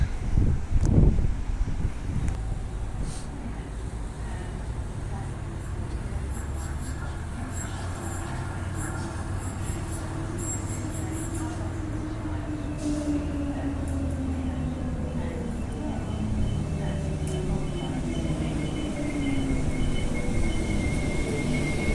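Train at a suburban railway station, rumbling and droning close with gusting wind noise on the microphone, rising and falling tones as it moves, and a brief knock at the start.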